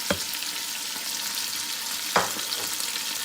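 Whole spices such as bay leaf, cloves, black cardamom and red chilies fry in oil for chana dal, making a constant soft sizzle with occasional scraping thumps of stirring, close by.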